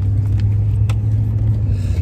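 A car driven fast on the road by a husband, heard from inside as a loud, steady low engine and road rumble throughout.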